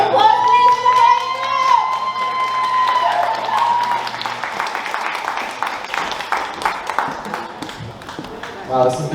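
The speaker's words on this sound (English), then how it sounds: "Round of applause, please, for the Brian" Wedding guests applaud during the speeches, a steady wash of clapping and cheering that rises under a speaking voice and then continues alone, gradually thinning toward the end.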